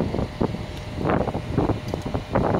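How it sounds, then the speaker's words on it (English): Gusty wind buffeting a microphone on a snowy house rooftop during roof installation, a steady low rumbling roar with irregular swells and puffs throughout, no voices heard. "And of course the wind is blowing"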